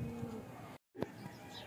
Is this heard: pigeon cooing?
yes